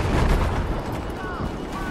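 Heavy booming gunfire in a video game, loud and continuous, with a low rumbling body and voices talking over it.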